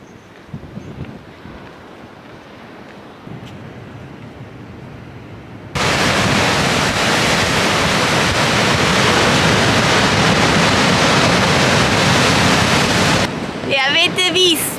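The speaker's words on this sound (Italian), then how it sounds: "E avete visto che onde che si vedono da qui? L'oceano è molto molto potente." Powerful Atlantic-style ocean surf pounding a rocky coast, heard first as a softer distant wash, then as a loud, continuous roar of breaking waves with wind buffeting the microphone.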